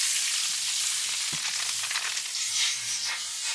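Salmon fillet frying in a pan with butter, garlic and thyme, giving a steady close sizzle with a faint clack of a utensil partway through; no one speaks.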